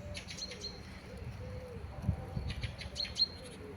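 A thrush sings in a city with faint, scattered chirps and whistled phrases high above a low rumble of urban background noise.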